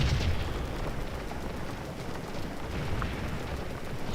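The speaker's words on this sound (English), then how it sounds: "Let's see what we can do with a section of artillery. Putting canister into them." Artillery in Scourge of War firing canister shot at McPherson's Ridge, a steady roar of rumbling blasts and battlefield din that fills the whole stretch without a break.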